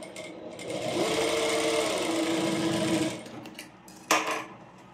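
Sewing machine stitching a pleated petticoat hums in a steady run of fast stitching for about three seconds, then slows and stops, with a sharp click shortly after.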